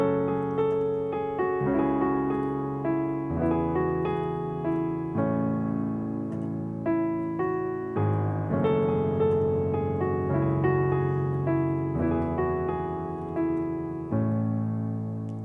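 Solo piano plays the accompaniment to a song, with sustained low chords under a right-hand melody, slow and gentle and at moderate volume, with no talking.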